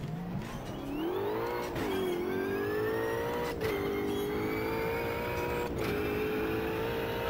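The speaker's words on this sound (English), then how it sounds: "Let's see if we can do a burnout." Race car in Automobilista 2 doing a rolling burnout: a high engine revving up and holding a loud, rising whine, with tire squeal over it and a few sharp shifts, close and continuous.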